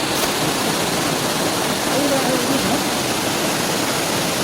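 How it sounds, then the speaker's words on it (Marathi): Bahubali waterfall near Bhandardara in Maharashtra roars during the monsoon, a loud, dense, continuous rush of falling water filling the scene, with faint voices briefly mixed in. "हा पहा बाहुबली धबधबा."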